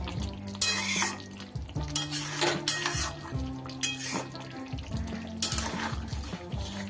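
Chicken rezala being stirred in a pan, with repeated scraping and sloshing strokes of the spoon through the thick gravy, steady and close, with no talking.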